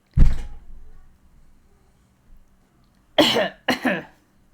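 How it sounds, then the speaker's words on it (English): A single sharp cough, then after a quiet pause two more quick coughs close together, nearby and fairly loud. "Cough, cough."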